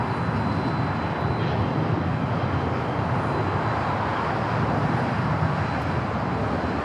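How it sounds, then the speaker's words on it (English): A LATAM Boeing 767 at Los Angeles airport roars on takeoff, a steady broadband jet-engine rumble that stays loud and unbroken throughout, with no talking. "Also have a LATAM at 767. You probably could hear those engines."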